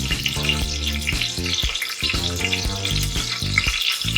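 A teaspoon of cumin seeds hitting hot oil that already holds asafoetida, in a Sindhi kadhi, giving a loud, steady crackling sizzle over a tonal background that sounds like music.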